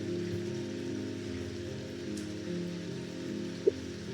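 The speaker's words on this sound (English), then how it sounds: "the rain ambience is perfect for a day like this" Steady rain ambience from the video game Strange Antiquities, a soft continuous patter under low sustained musical tones, with one brief small click near the end.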